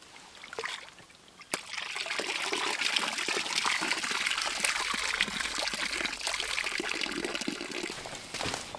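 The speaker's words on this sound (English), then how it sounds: "this cotton bag, the water ran through it so fast" Water running fast through a cotton bag used as a filter, a steady close trickle and splash with a sharp knock near the start.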